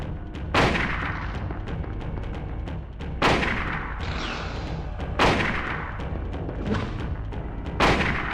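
Loud gunshots ring out in the Silent Hill video game, four sharp blasts spaced a couple of seconds apart, each one with a booming tail, over a dull rumbling background.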